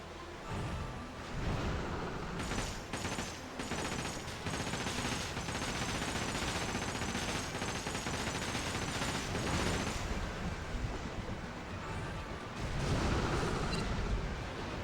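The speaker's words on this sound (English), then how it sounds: "Cannons locked and loaded." Ship cannons firing in the pirate video game Like a Dragon: Pirate Yakuza, a dense barrage of booming blasts and rattling gunfire rolling almost continuously for the whole stretch, loud and close with no talk over it.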